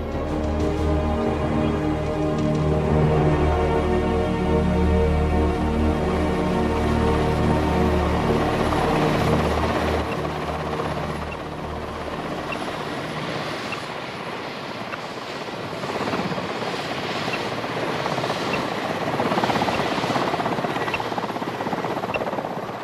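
Helicopter rotor noise over snowy tiger habitat, a loud, steady droning whir with a strong engine hum, shifting midway as the aircraft moves, with no voices.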